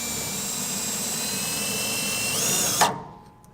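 Cordless power drill whirs steadily as it drives a self-tapping screw into the cross member of a 1990 Chevrolet truck, rising in pitch and strain before stopping abruptly.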